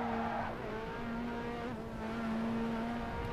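Steady engine drone of a race car in the PS Vita game Ridge Racer Revisited during a nitrous boost, a sustained loud tone with slight pitch shifts and tire squeal, continuous throughout.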